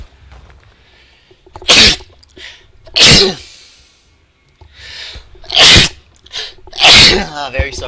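Four sharp sneezes burst out close and loud at uneven intervals over a quiet background, each a sudden explosive puff of breath.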